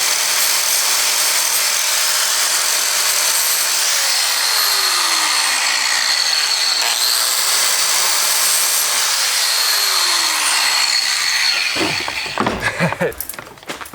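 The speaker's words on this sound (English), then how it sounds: "I'm gonna go ahead and just angle grind the tip of the screw off" An angle grinder grinds the protruding tip off a screw in plywood drawers, a loud continuous high whine for about twelve seconds that cuts off and winds down at the end.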